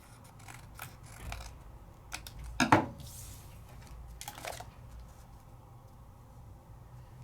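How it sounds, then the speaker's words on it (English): Scissors trim extra paper in a papercraft project, making a string of close, crisp snips. One burst of cutting is louder in the middle, followed by quieter handling sounds, with no talking. "Just getting rid of the extra paper. Now I'm going to trim it on down."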